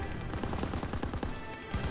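Rapid, dense gunfire from a WWII Call of Duty battle on Veterans difficulty, with rifle and machine-gun shots crackling continuously and overlapping at close range.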